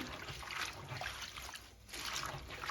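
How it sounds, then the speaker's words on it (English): Collard greens rubbed together by hand in a basin of salted water, giving a steady wet swishing and trickling close by, with a brief lull partway through. "scrubbing them together because remember I have salt in this water, so I'm rubbing them all together"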